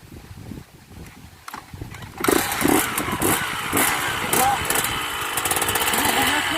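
A motorcycle engine revs up hard partway through for a wheelie, a loud rough roar after a quieter start, with someone talking over the engine.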